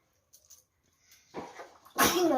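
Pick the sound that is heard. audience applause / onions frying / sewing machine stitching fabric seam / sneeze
sneeze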